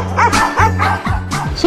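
Adults imitate dog barking on a Thai pet show, a rapid run of loud human 'bow-wow' yips and whimpery barks close to the microphone, several in quick succession.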